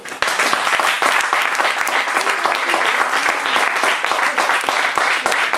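Church congregation applauding in a steady, loud wave of dense clapping that fills the room without a break.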